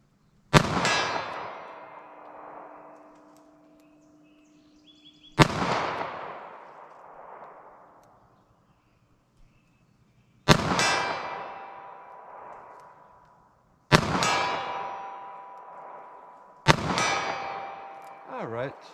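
.38 Special revolver shots ringing off a steel target at a good distance: five sharp metallic clangs, each with a long decaying ring, spaced a few seconds apart and fairly loud.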